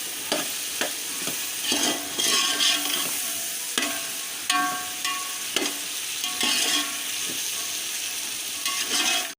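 Steady sizzling of boiled chickpeas frying in a hot pan, with repeated scraping and clinking of a spoon stirring through them, close and continuous.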